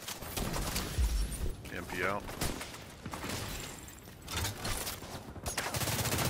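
Gunfire in The Division 2 during a PvP match, with bursts of shots and impacts mixed into game noise while a player talks over the action.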